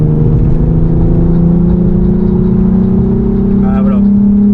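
Volkswagen Golf 5 R32 engine droning loudly from inside the car, a steady deep resonant hum that climbs slowly in pitch, with faint speech breaking in near the end.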